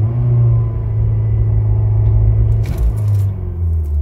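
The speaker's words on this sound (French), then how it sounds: "Je vais accélérer à fond pour que vous voyez ce que ça fait." A Mercedes S202 engine is held at full throttle with the pedal floored, producing a loud, steady low rumble with a sustained revving drone, close and continuous, with a brief rattling burst near the end.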